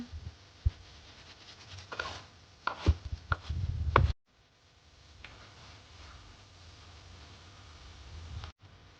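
A kitchen knife chops beef for dry fry on a board in a quick, irregular burst of close, sharp knocks over the first few seconds, followed by quiet and one final knock near the end.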